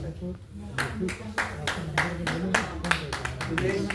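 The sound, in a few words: audience applause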